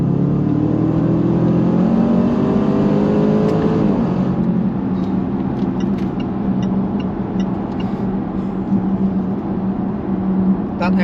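A Range Rover Sport SVR (L494) pulls hard away from a roundabout starting in third gear, its loud rising engine note climbing through the revs before easing into a steadier drone.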